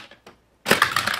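A toy race car crashes on a play track: a couple of light plastic ticks, then a sudden loud clattering rattle of impact and tumbling that fills the last half second, close and unaccompanied by talk.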